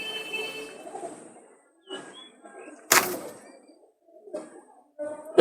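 A pair of pigeons coo close by in short, soft, intermittent bursts separated by quiet gaps, with one sharp rustle in the middle.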